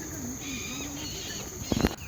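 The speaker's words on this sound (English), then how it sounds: "I think it's some kind of birds calling out, but it sounds like someone is torturing them." Birds call out in a forest beside an old rail corridor with a strained, wavering tone, repeated a few times over a steady hiss before a louder burst near the end.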